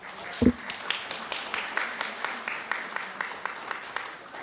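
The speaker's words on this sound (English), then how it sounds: "Let's give these guys a big round of applause." Audience applause at the close of a talk, a steady, moderate patter of many hands clapping, with one louder thump near the start.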